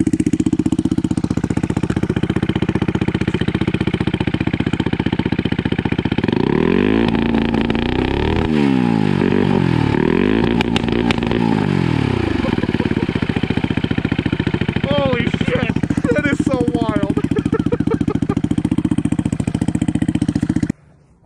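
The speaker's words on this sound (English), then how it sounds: "I just put a two-step on the bike." A turbocharged Honda Grom motorcycle with a CBR engine swap and a two-step launch limiter runs loud and close, holding a steady drone with repeated rising and falling revs, then rapid stuttering pops before cutting off abruptly.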